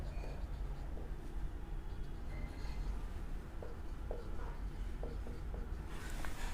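A pen writing an accounting entry on paper in a partnership practical problem, giving a steady, soft scratching under a constant low background rumble.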